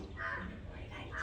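Faint crow caws, a short harsh call repeated, heard at a distance over low outdoor background noise.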